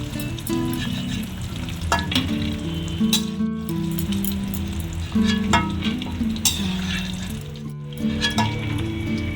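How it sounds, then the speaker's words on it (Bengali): Cashews fry in oil until lightly reddened, giving a continuous near sizzle with stirring scrapes and brief clinks. Melodic background music runs throughout. "কাজুটাকে একটু লাল লাল করে একটু ভাজবো সামান্য"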